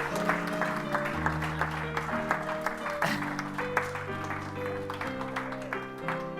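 Applause from a conference audience for a volunteer at a magician's talk, steady clapping over sustained musical tones that play throughout, a fairly loud mix in a hall.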